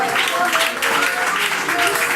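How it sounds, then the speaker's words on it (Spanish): A church congregation applauds during a Sunday morning service. The clapping is steady and loud, mixed with voices and a sustained musical tone underneath. "Dale un aplauso."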